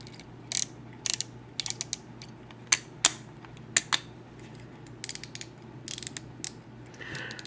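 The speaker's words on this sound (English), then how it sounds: "Those are some nice ratchets." Sharp ratchet clicks from the die-cast metal joints of a Chogokin Hello Kitty 40th Anniversary figure, heard in short clustered bursts of crisp, close clicking over a faint steady hum, with no talking.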